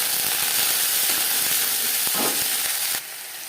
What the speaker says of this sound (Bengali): দিয়ে দিয়েছি 2 চামচ সরষের তেল, দিয়ে দিলাম কাঁচা লঙ্কা বাটা, আদা বাটা।